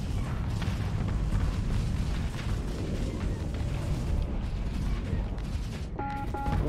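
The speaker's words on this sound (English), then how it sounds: "The EOS was destroyed." In the space game Starsector a destroyed EOS ship explodes with a loud, sustained roaring rumble that runs throughout, and a short electronic tone sounds near the end.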